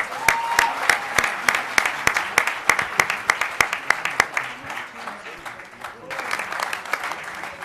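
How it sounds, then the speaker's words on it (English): Audience applause at a community event honoring diaspora leaders, a room of people clapping with some sharp individual claps standing out, dipping briefly before swelling again, with a voice heard under it. "if we can start with a round of applause, that would be great"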